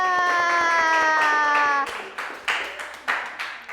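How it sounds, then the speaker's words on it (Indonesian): A classroom group clapping for a student, first a held tonal sound, then a handful of rhythmic, evenly spaced claps in unison at close range. "Tepuk tangan buat Mbak Aisyah."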